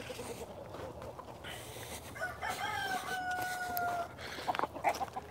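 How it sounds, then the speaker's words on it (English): Chickens cluck and a rooster crows loudly at close range in a winter yard, the crow rising clearly above a steady background of scattered clucks. "Something about the winter time makes these chickens so hungry."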